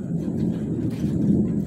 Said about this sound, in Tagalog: Yung thunder lang at saka kidlat yan ang meron.